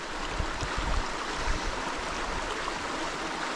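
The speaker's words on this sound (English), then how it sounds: "enjoy this river a bit more. So nice just listening to it." A river flows steadily at close range in rural France beside a bikepacking camp, a continuous broadband rush of moving water with no voices, holding an even level throughout.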